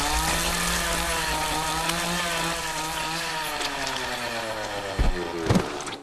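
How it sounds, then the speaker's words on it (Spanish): A chainsaw starts and revs in the Bunnyman horror film, a loud droning whine that shifts in pitch with sharp bursts and thuds near the end. "que enciende su inseparable motosierra y la aniquila en cuestión de segundos"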